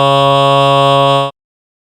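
A steady, loud user-defined instrument tone synthesized in SpectMorph, with a buzzy, harmonically rich timbre, held for over a second and then cut off abruptly into silence.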